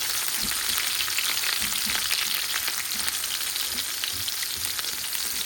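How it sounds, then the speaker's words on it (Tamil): Tempering and onions fry in a pan for green peas masala, with a continuous bright sizzle and scattered crackles and light stirring knocks close by. "தாளிப்புக்கு கொஞ்சோண்டு போட்டுட்டு வெங்காயம் போட்டு"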